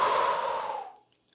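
A single long exhale during a bedtime yoga stretch, a close, breathy rush of air that fades out after about a second, followed by a faint click.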